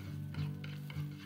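Garlic cloves sauté in a pan, with soft, faint stirring scrapes recurring a few times over a low steady hum.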